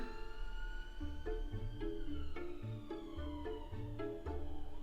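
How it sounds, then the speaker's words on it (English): A wailing ambulance siren with rising and falling harmonic tones sounds at a distance, its pitch sliding downward slightly as the vehicle moves past. "I'm literally on the ambulance route, so great."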